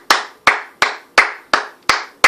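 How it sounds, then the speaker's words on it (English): Six sharp hand claps in a steady, evenly spaced rhythm, close and loud, each one cut off cleanly before the next, with no talking over them. "clap it up for yourself."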